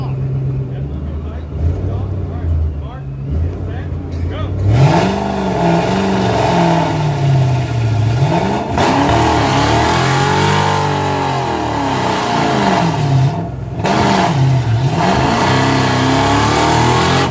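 Manual car revving hard at a Friday night burnout event, loud rising and falling engine roars close by, with people talking in the background.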